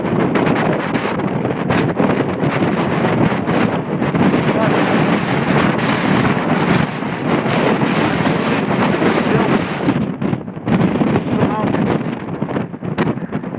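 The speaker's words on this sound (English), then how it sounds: "the chains are swaying in the wind here" Strong wind roars across the Mount Washington summit where chains sway, a dense, steady buffeting against the microphone for the whole stretch that eases only briefly near the end. No separate chain clinks stand out.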